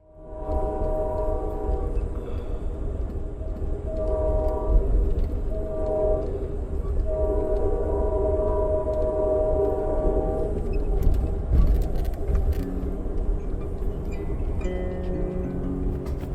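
An Amtrak AutoTrain sleeper rumbles along steadily with constant low track noise, while its horn sounds repeatedly in long tonal blasts spread across the ride.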